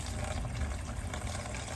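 Cleaning solution poured into a caravan's water container, a steady close gushing of liquid filling the vessel, continuous and fairly loud with no talk.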